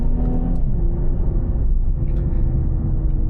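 A 2022 Infiniti Q60S Red Sport engine revs hard while driving on Angeles Crest, a loud, deep rumbling drone that climbs and then holds steady, heard from inside the car with no talking.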